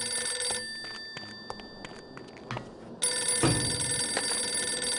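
A payphone rings in the video game The Operative: No One Lives Forever, a loud electronic telephone ring that pauses briefly and then resumes strongly, with no talking.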